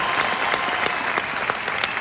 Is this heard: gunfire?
no